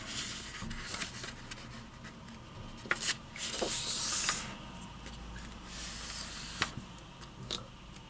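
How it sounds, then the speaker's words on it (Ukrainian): A square sheet of paper, 14 by 14 cm, is folded corner to corner for an origami cat: soft close rustling and scraping creases come in short bursts, with one brighter crinkle midway and no talking. "Беремо листок і складаємо його з кута в кут."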